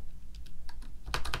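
Typing a search on a computer keyboard, close up: a short run of light key clicks that speeds into a quick burst near the end, with no speech.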